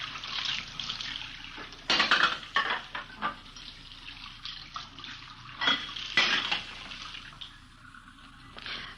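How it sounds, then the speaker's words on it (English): Dishes are washed and rinsed in a kitchen sink, with running tap water hissing alongside clinks and knocks of plates and cutlery in uneven bursts, close and moderately loud, with no speech. "We found her in the kitchen washing dishes."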